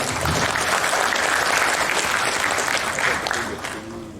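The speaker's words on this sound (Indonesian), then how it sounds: "Tepuk tangan untuk Bapak Wali Kota" Audience applause for a city mayor at a government event for small businesses, a full steady burst of many hands clapping that tapers off at the end as a voice begins to speak.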